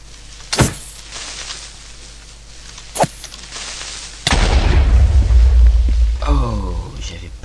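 A Minecraft creeper explodes in the video game with one loud, booming burst whose rumble lingers for several seconds, after a couple of sharp clicks; a voice briefly sounds near the end.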